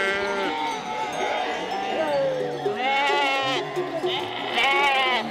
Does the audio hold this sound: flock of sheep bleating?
yes